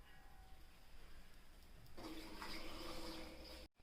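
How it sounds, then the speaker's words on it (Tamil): Water pours steadily into a cooking pot of curd sambar, faint at first then louder and splashing for a couple of seconds before cutting off abruptly. "கொஞ்சோண்டு தண்ணி போட்டு"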